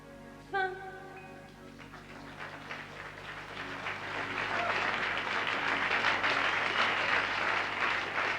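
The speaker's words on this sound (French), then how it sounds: "donnez-moi la faveur d'un applaudissement" An audience at the 1990 Calvi jazz festival breaks into applause that swells from scattered claps to steady, full clapping, with a brief tone at the start.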